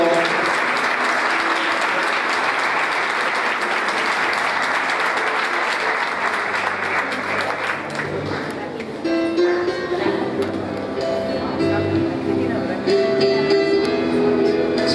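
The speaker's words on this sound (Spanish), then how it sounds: "entrega a Analía, fuerte aplauso" Sustained applause from an audience at a school tribute honouring retiring teachers, dense clapping throughout, easing slightly near the middle and continuing with scattered voices and music-like tones underneath.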